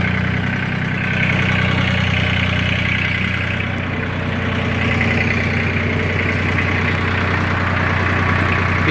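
A Lenar 274-1 tractor engine idles steadily nearby, a low, even diesel rumble with a faint rhythmic knock running unbroken throughout.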